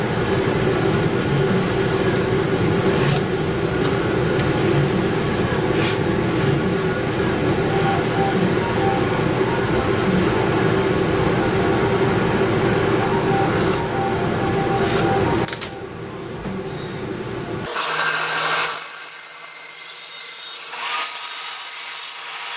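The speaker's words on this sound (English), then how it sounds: "So how I do it is I use a router." Router trimming a wooden knife handle, a steady loud whining, rubbing drone that runs without a break, then drops away near the end and leaves quieter scraping.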